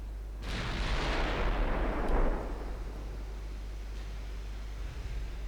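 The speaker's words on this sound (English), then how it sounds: "Six-inch guns focus on the light cruisers." Six-inch naval guns fire in the warship game Ultimate Admiral Dreadnoughts, a loud booming blast with a rushing roar that swells for about two seconds and then fades into a low rumble.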